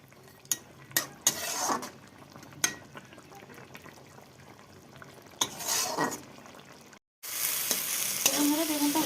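Eggplant frying in oil in a kadai, a soft steady sizzle broken by a few clinks and scrapes of a spatula against the pan, followed by a louder burst of sizzling near the end.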